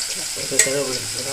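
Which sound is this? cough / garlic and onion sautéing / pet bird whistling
garlic and onion sautéing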